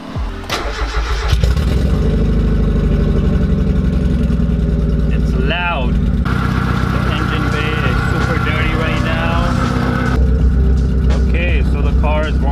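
A Mazda Miata engine starts with a crank and catches, then idles loudly and steadily while warming up, with brief talk breaking in over the running engine.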